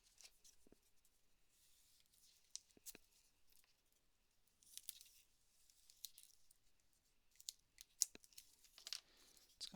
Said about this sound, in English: put some tape on it